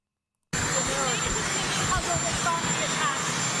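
A helicopter runs close by as reporters question the president, its steady, loud rotor and engine roar filling the clip, with voices talking underneath.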